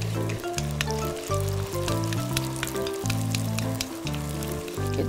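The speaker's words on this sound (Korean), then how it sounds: "조금 지글지글 볶으세요." Food stir-fried quickly over high heat in a pan with a glossy sugar-based sauce, sizzling steadily and loudly up close, with clattering of a utensil against the pan and a low rumble throughout.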